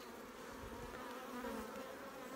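A dense, steady buzz of many honey bees close by at an open hive in winter, continuous with no pauses.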